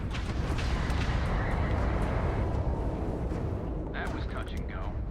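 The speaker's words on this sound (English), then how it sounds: "So I'm not firing the turret. The turret's auto-firing. I'm firing the missiles." Missiles fired from a spaceship in Starfield roar and burst in a dense, loud barrage of rumbling blasts, with game effects layered throughout.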